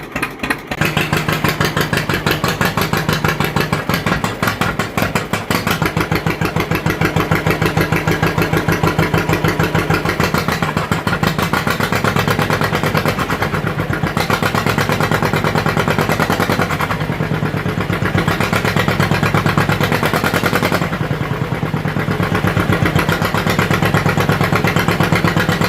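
An old two-cylinder John Deere Model 50 tractor idles after a cold start, its loud, close, uneven putt-putt firing chugging steadily throughout.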